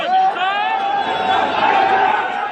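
Agitated crowd at a gurudwara in Kapurthala, Punjab, a loud sustained roar of many voices shouting together, dense and continuous throughout.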